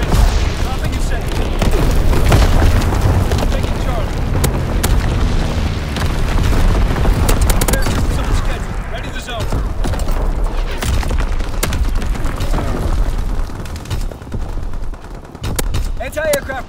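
Bombs from a low-altitude bomber airstrike in Call of Duty: WWII thud and boom repeatedly, mixed with gunfire crackle in a continuous loud barrage, while voices call out over the battle.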